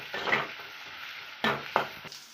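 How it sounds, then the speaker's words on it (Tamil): Onions, cumin and curry leaves sizzle in hot oil for a liver fry, a faint crackle joined by two louder bursts of spoon stirring and scraping against the pan. "எண்ணெய் சீரகம் வெங்காயம் கருவேப்பிலை போட்டு இங்கே பாருங்கள் தாளித்து வெந்துக்கிட்டு இருக்கு"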